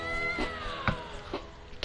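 A cat meows in a PS4 game, a short drawn-out mewing cry with a falling pitch, close and clear over a busy game background.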